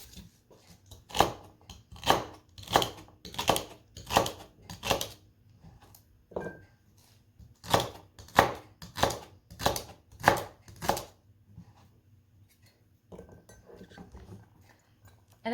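A knife chops celery on a cutting board while preparing pot roast for pressure canning, landing in a steady run of sharp, close knocks, pausing, then a second quick burst of chops and a few softer taps at the end.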